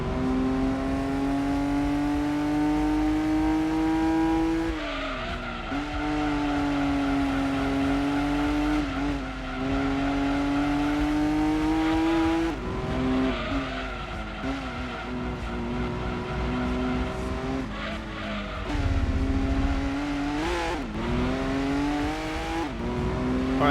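A V6 racing car engine in Gran Turismo 2 revs hard and continuously on Grand Valley Speedway, pitch climbing and dropping through gear changes, with occasional tire squeal, loud and close.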